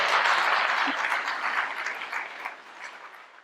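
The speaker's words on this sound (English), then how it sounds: "Let's give all of our panelists a round of applause." Audience at an NAACP political forum applauding its panelists, a steady wash of many hands clapping that starts strong and slowly thins and fades.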